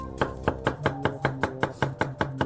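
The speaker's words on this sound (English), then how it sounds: "This Nakiri goes all the way through every fucking cut." A Teruyasu Fujiwara Denka Nakiri knife slices through cucumber on a cutting board in quick, even strokes, about ten crisp close chops in steady rhythm with no talking.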